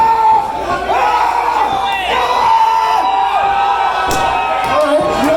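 An indie wrestling show crowd at Hoodslam in Reno, Nevada, cheers and whoops loudly, with shouts and yells rising and falling over a constant roar, close and energetic.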